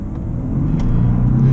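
An Audi A6 Allroad pulls away from a standstill in dynamic mode, its engine rumbling low and building steadily in pitch and loudness over a second and a half, heard from inside the car with no talking.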